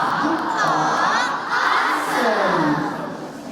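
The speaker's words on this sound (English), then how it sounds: "Let's give them the awesome ox cheer." School students in an all-school meeting shout a loud group cheer together, a dense sustained mass of young voices chanting and yelling for about three seconds before easing slightly.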